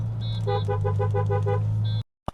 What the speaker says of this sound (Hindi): देखो नियर आइडल स्पीड्स पर ये इंजन रन कर रहा है बिकॉज हम 5-10 की स्पीड पर चल रहे हैं